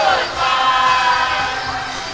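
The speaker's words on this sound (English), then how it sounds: "As the crowd sings hey, hey, goodbye." Hockey arena crowd singing the "hey, hey, goodbye" chant late in the third period as a player leaves the game, a loud, sustained mass of voices filling the space with no break.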